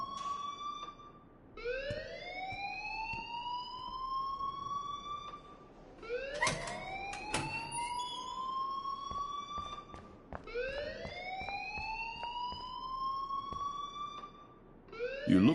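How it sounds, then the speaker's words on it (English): A wailing, siren-like alarm ringing in the Life is Strange video game, rising and repeating in long sweeping cycles, steady and moderately faint with no talk over it. "please turn off that alarm since that's your job"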